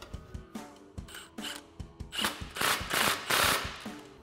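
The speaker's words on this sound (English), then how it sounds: "we'll snug it down with our 15 millimeter socket" A 15 mm socket on a ratchet snugs down an exhaust clamp where the tailpipe meets the muffler of a RAM 1500 dual exhaust, giving rapid metallic ratchet clicks in bursts that grow louder and denser toward the end.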